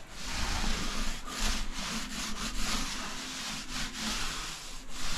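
Primer sealer brushed or rolled onto a wall before tiling, a steady close scraping and rubbing with brief pauses, alone without talk.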